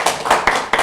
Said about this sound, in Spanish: vamos a darles un bonito aplauso